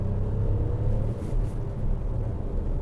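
A three-cylinder MG ZS accelerates on the road with a steady, close engine rumble and road noise that holds at an even level throughout, with no speech.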